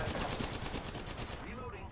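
Rapid automatic gunfire in a video game pours in close and loud, a dense continuous rattle of shots with a voice speaking over it.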